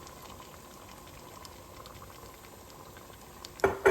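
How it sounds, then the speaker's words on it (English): Tomato sauce with Italian sausage bubbles steadily in a pot on the stove, a soft continuous simmer with small pops, ending in a couple of louder knocks near the close. "I'm actually gonna lower this heat again because I hear this bubbling"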